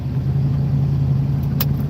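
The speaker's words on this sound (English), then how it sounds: "this truck's bogging so bad" A truck engine bogging down under load, a steady low droning rumble that holds constant without revving up, heard alone and fairly loud.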